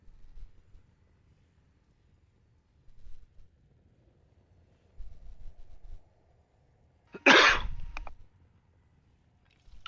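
A single sharp, close sneeze bursts out near the end, after stretches of quiet low rumbling.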